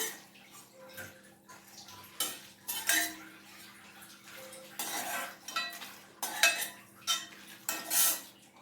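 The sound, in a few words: transferring roasted chilies and coriander seeds onto a plate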